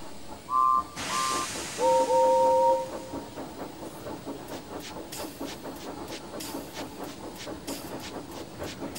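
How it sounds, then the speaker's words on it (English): A train rumbles along with a steady rhythmic chugging, opened by a couple of short, high whistle toots and a burst of hissing steam. "Winston was puffing down the line"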